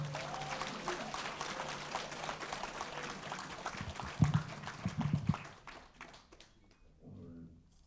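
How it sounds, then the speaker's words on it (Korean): An audience at a political forum lecture in Songpa, Seoul, claps for a party leadership candidate; the applause runs steadily for several seconds, then dies away into near quiet. "큰 격려와 성원의 박수 보내주시기 바랍니다."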